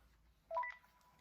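A phone gives a short burst of rising electronic tones, faint and brief, over a quiet background.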